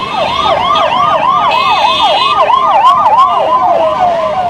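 A loud, close ambulance siren wails in a fast repeating up-and-down sweep on an Indian city road, with a second tone briefly joining and traffic noise underneath.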